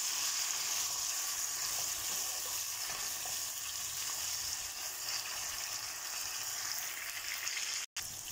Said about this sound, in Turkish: sebzelerimiz hepsi aynı anda kızarsın.